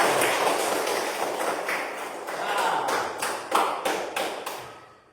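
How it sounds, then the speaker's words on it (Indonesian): A classroom of students doing an icebreaker clapping game, building into loud group clapping with rhythmic claps that become distinct toward the end, mixed with chanting voices and a brief spoken word. "Tepuk 1 kali, tepuk 2 kali, tepuk 3 kali, tepuk ramai-ramai"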